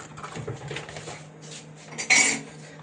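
Sweet dough batter is stirred in a bowl, a spoon scraping and clinking softly against the sides in a steady rhythm, ending in a louder clatter of utensil on dish.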